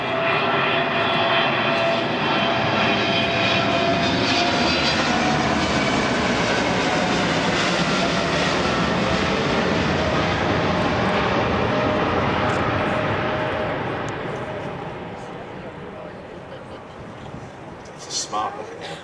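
A Boeing 777 jet airliner flying at an airshow, its steady loud engine roar sustained for a long stretch, then gradually fading into the distance.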